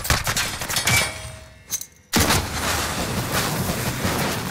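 Dense Call of Duty: Modern Warfare gunfire rattles in loud, rapid volleys, breaks off into a brief near-silent gap midway, then resumes as sustained heavy shooting with booming impacts.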